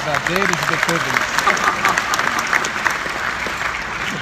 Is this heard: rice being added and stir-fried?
no